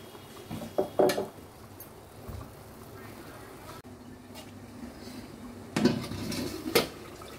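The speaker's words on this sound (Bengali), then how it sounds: "ঢাকনাটা খুলে দিচ্ছি।" A lid comes off a pot of boiling pork curry with a few sharp metallic clinks and clatters against a low background hum, followed by more clanks near the end, close and fairly quiet.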